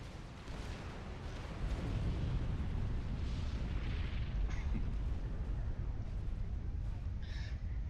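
Tech bomb bombers dropping explosives in a real-time strategy video game, a dense rolling roar of blasts building after the first half second and sustained loud to the end, with faint higher tones near the close.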